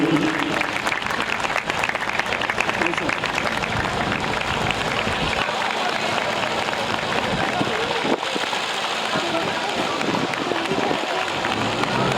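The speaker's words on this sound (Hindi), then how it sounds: "ताली अपने आप बजाते रहे प्लीज" Continuous applause from an audience at a Christmas celebration, dense and steady throughout with some crowd noise mixed in.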